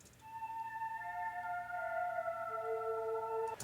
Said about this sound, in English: that's because this is actually a Mellotron bank